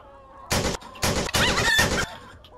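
Several loud bursts of rapid chicken clucking in the game Chicken Range come in quick separate bursts with short pauses between.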